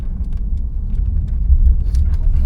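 A car rumbles past on a road beside oil and gas facilities in Yakutia, a steady low engine drone that swells slightly toward the end with faint rattles on top.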